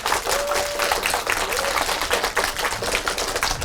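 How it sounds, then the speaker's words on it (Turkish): A room of schoolgirls applauding in a classroom vote for a classmate, brisk dense clapping close by that fills the whole stretch, with a faint whistle-like tone gliding through early on. "Arkadaşımız birinci olsun diyenler alkışlasın."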